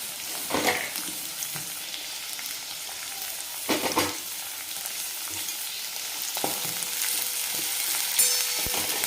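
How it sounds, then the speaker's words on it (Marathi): Sliced onion tossed into a hot pan, sizzling steadily while a spatula scrapes and stirs it in a few bursts, close and with no voices. "आणि नंतर आपण टाकू एक मोठा कांदा उभा चिरून घेतलेला आहे तो टाकून देऊ"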